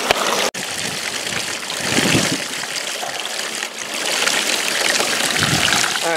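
Water rushes steadily through a Le Trapp sluice fed by a 2,000 gallon a minute pump, a broad continuous gushing wash close by with a sharp click near the start.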